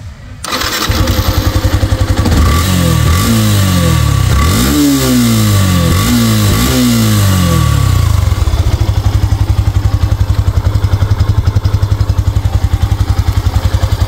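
A second-hand Yamaha FZS version 2 motorcycle, 2022 model, cranks and starts, then revs in several rising and falling bursts before settling into a loud, steady idle close by.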